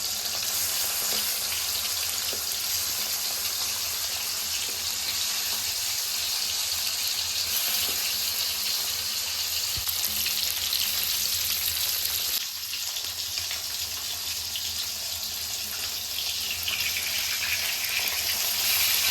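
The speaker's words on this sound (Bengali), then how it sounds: "মাছগুলো খুব হালকা করে ভাজবে, বেশি কড়া করে ভাজলে আবার টেস্ট চলে যাবে।" Small pieces of katla fish fry lightly in oil, a dense, steady sizzle and hiss that continues close and loud for the whole stretch, with a brief dip partway through; nobody speaks.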